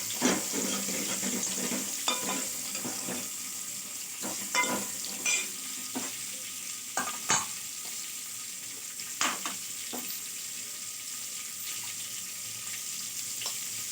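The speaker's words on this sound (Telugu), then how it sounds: "ఇవి వేగాలి, కొంచెం మంచిగా వేగాలి." Onion and tempering spices fry for sambar in a pan over high flame, giving a continuous close sizzle with repeated spoon scrapes and clinks against the pan, and no talk.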